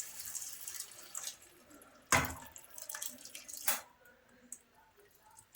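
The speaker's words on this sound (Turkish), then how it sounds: "Ve kaynayan su dökeceğiz işte üzerine." Boiling water poured from a kettle over sliced leeks in a pot, a splashing, gurgling pour with a few louder splashes and brief pauses, fairly close and moderately quiet.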